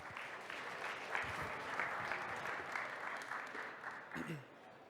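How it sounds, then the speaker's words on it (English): Steady applause from a large audience, a dense continuous clatter of clapping that fades slightly at the end. "Applause, applause, applause."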